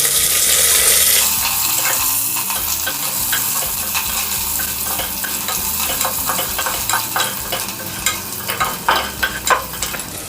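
Onion sizzling in a tempering of oil with byadagi chillies, bay leaf and curry leaves for sprouted horse gram sambar, a bright, steady hiss close by, with stirring clicks that grow busier toward the end.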